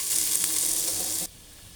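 Loud, steady sizzling of cumin seeds and ginger frying in hot oil, close up, cutting off abruptly near the end to a quiet hiss.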